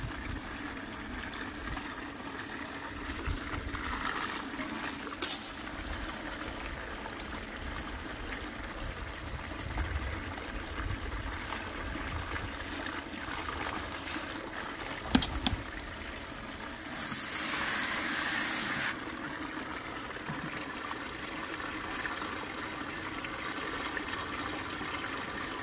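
Water running through a gold cube sluice carrying screened 1/8-inch-minus material, a faint steady trickling and rushing flow with a few brief clanks and a short hissing burst near the end.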